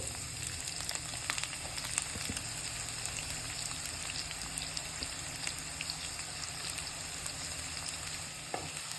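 Garlic and onion frying in hot oil in a pan, a steady close sizzle with crackling pops throughout, no voices.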